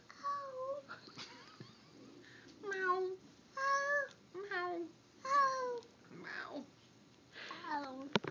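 A young child imitates a cat, giving a string of drawn-out, wavering meows, about six of them spaced a second or so apart, close and clear, while an adult voice speaks briefly in between.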